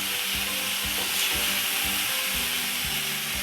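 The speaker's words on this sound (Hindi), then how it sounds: "इसको तकरीबन 1-2 मिनट भूनूंगी" Boiled minced beef (keema) frying and being stirred in a pan, a steady broadband sizzle with repeated scraping strokes of a spatula, close and continuous, with no talking.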